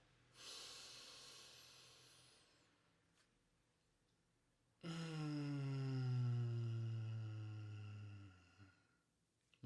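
Slow, deliberate breathing demonstration in a coherent-breathing exercise: a long, airy inhale, a pause, then a loud, extended exhale with a voiced hum-like tone, close to the microphone and without talk.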